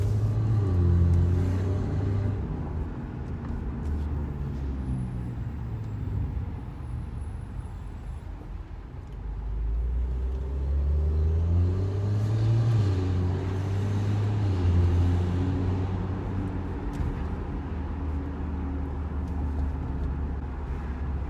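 A 2012 BMW 135i with the N55 engine and DCT gearbox cruises through a neighborhood, a steady low engine rumble rising and falling with throttle, close and continuous with no talk.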